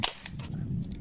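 A gunshot fired at a large tilapia in water outdoors, one sharp close crack at the very start, followed by low rumbling background noise.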